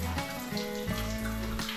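A weak, thin trickle of water runs from a tap in a Bali villa in Amed, a steady close splashing that goes on alone with no talk.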